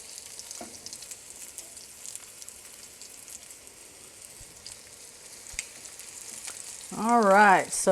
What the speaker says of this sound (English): we're going to drop in our fish. And hear that sizzle.